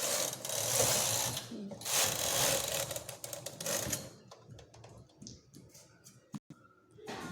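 A knitting machine running a few rows of stitches with waste yarn while making a baby romper, giving a near, busy mechanical clatter that rolls for about four seconds, then sparse clicks and handling noises.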